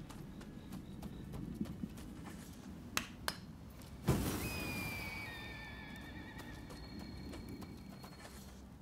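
Faint horse hooves clip-clop in the Rise of the Ronin video game, a few scattered clops followed by a sharper thud, with light ambient game sounds and no talking.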